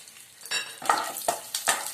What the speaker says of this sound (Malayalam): കുറച്ച് നട്ട്സ് എടുത്ത് വെച്ചിട്ടുണ്ട് അത് ഇതിലേക്ക് ഇട്ട് കൊടുക്കാം നമുക്ക് ഒന്ന് മൂപ്പിക്കാം